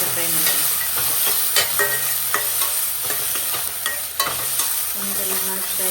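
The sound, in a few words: tomato frying in a pan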